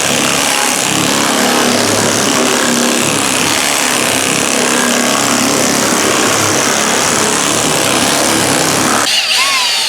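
A power sander with 60-grit abrasive grinds loudly and continuously across a truck body, a harsh, close roar that cuts off near the end.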